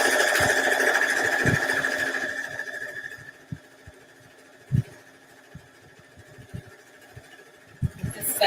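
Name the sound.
sewing machine stitching a quilt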